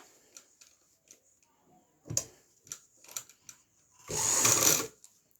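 Sewing machine stitching a lined kurta: scattered clicks and taps as the fabric is set, then a short close burst of fast mechanical running near the end, with no talk.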